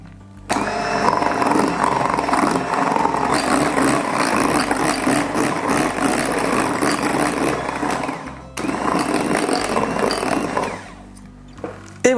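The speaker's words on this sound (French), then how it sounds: "c'est seulement maintenant qu'on va pouvoir la monter en la fouettant" An electric mixer whips chocolate ganache at low speed, giving a steady close whirring drone that runs for about eight seconds, breaks off briefly, then resumes and fades out.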